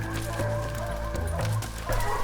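Hunting dogs chase a black bear in the North Carolina woods, giving close, repeated barks and yelps over rustling movement, with some talk mixed in.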